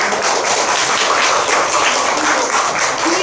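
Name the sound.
audience applause at a symposium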